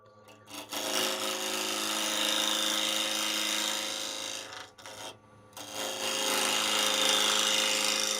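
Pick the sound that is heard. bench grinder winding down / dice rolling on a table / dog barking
bench grinder winding down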